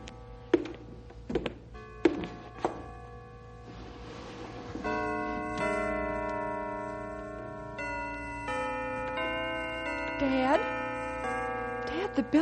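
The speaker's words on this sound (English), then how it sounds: "Listen, the bells. They're working again." Church bells ringing a sustained, tuned chime through an open window during a Christmas radio drama, rising after a few knocks and ticks and holding a steady tolling melody with a bright swell near the end.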